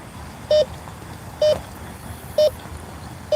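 A Bounty Hunter Tracker metal detector sweeps over a concrete sidewalk with rebar at night, giving four short, evenly spaced beeps over a low, steady background hiss.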